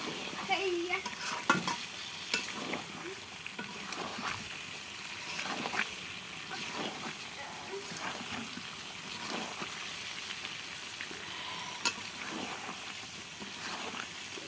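Broiler chicken and potato pieces fry quietly in a pan while being stirred, with soft repeated scraping and a low, steady sizzle throughout, no voices present.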